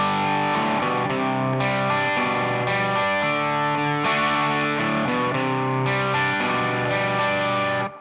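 Distorted electric guitar plays a riff, loud and continuous with chorus-like effects, chopped chords and sustained notes carrying through the whole passage with no voices.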